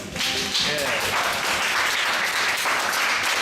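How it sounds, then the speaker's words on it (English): A workshop audience claps in a dense, lively burst of applause, close and sustained, with a voice briefly audible underneath at the start. "Let's give them a round of applause, right?"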